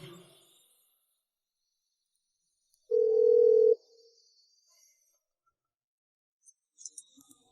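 A single telephone ringback tone sounds once for under a second in an otherwise near-silent stretch while a call goes unanswered, followed by a few faint clicks.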